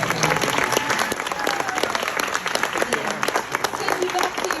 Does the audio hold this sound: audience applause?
yes